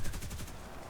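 Rapid burst of aircraft machine-gun fire from a Polikarpov I-15 biplane in a flight combat game, a quick run of loud, evenly spaced shots that stops after about half a second.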